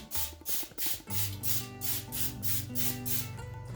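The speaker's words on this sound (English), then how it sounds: "So we're gonna spray our liners here." Several short bursts of cooking spray hiss in a quick series onto muffin liners, close by, with brief pauses between them and no talking.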